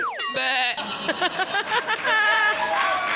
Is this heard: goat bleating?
yes